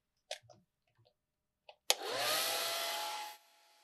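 A few soft clicks and taps come before a hair dryer switches on to dry a watercolor cheetah painting, blowing a steady, close whoosh for about a second and a half before cutting off, with no talk.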